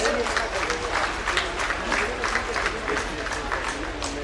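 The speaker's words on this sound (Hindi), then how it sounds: "तालियां हो आप सबकी तरफ से।" An audience at a bridge and road foundation-stone ceremony claps steadily, a dense continuous applause filling the whole stretch, fairly loud and evenly spread.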